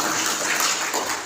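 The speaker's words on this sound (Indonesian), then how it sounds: "Oke, tepuk tangan untuk Mas Debi." Audience applause at a volunteers' inauguration rally in Ngawi, East Java, a dense steady wash of clapping filling the short moment with no talk over it.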